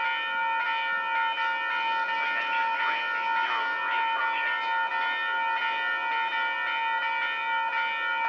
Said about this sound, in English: here comes Caltrain number 803.